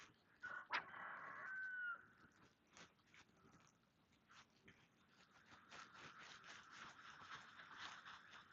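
A rooster crows once faintly in the distance on the Huon River in Tasmania, followed by soft clicks and rustling outdoor noise.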